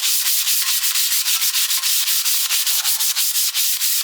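Sandpaper of 120 grit rubs steadily across the back of an old cottage garden relic, giving a loud, close, rhythmic rasp of quick even strokes.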